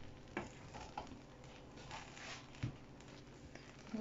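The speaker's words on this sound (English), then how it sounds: "I'm just gonna give it a stir again." Jollof rice stirred in a pot on the stove, soft scraping strokes with a few knocks against the pot over a low sizzle, close and unaccompanied by talk.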